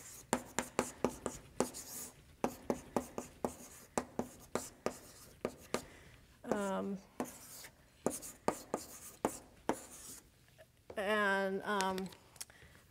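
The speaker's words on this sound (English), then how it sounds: "So I'll just write it down again." Chalk taps and scratches on a board during a physics lecture on inflation, a steady run of short sharp strokes, close and distinct, with a couple of brief squeaky scrapes between them.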